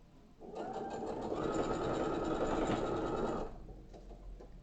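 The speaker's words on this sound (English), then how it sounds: "We're just going to sew it together" A sewing machine stitches quilt block pieces together in a close, steady whirring run of about three seconds, starting and stopping cleanly, with quiet room sound on either side.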